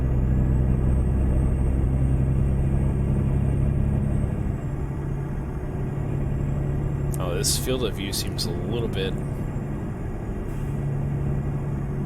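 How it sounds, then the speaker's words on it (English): Truck engine in a driving simulator game drones as a steady low rumble throughout, with someone talking over it and a brief burst of clicking near the middle. "I do think that the engine's a little bit loud, too."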